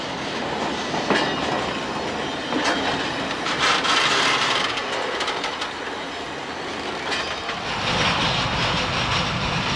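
Freight rail wagons roll through a hump yard with loud, continuous rumbling, rhythmic clickety-clack over rail joints and occasional metallic squeals, close by.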